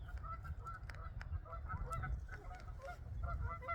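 Several geese honk repeatedly in overlapping calls against a low background rumble, close and fairly loud.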